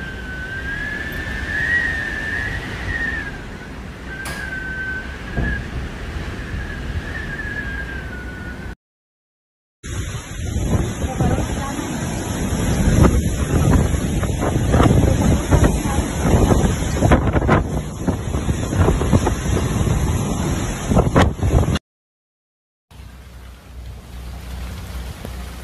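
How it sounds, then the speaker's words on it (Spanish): Strong wind and rough sea on the coast during Hurricane Isaias: a loud, steady roar of gusting wind and surf, broken by two short drops to silence, with a faint whistling tone early on. "El mar."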